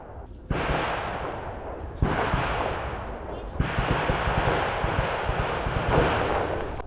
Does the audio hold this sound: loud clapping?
no